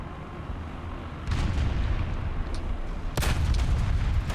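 A T-72M2 Moderna tank fires its cannon in War Thunder, a heavy boom at the start followed by a low rumbling tail, then a second sharp blast near the end over a constant engine drone.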